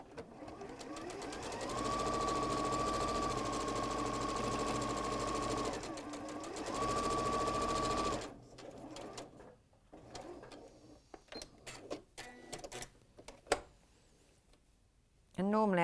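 A sewing machine stitches down quilt pieces in a loud, steady whirring run of several seconds with a brief pause, then stops, followed by quieter handling noises and a person speaking.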